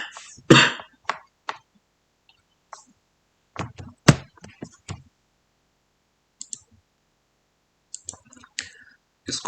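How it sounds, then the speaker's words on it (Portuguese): Several short, sharp coughs and throat-clearing bursts, close to the mic, scattered across the clip with quiet gaps between them. "tô com uma tosse aqui"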